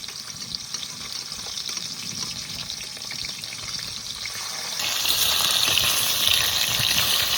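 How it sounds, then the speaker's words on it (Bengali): Steady hiss and crackle of hilsa fish frying in hot oil, growing louder and brighter partway through as the sizzle intensifies; no talking. "ইলিশ মাছ বেশি ভাজবো না, এক পিঠ ভাজা হয়ে গেছে, এবার উপর পিঠটা উল্টিয়ে দিই"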